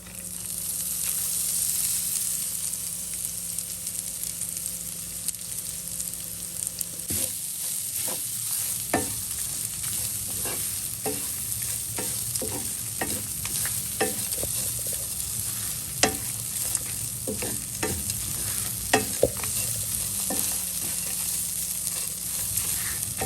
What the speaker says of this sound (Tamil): இது எல்லாத்தையும் நல்லெண்ணெயில் போட்டு நல்லா ட்ரை ரோஸ்ட் பண்ணிக்கலாம்.